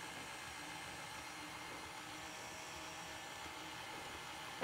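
An electric mixer whirs steadily on its slow setting through gluten-free pumpkin cookie dough, an even, constant motor hum with no talk.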